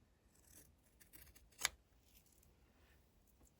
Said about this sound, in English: So let's cut these flappy bits off.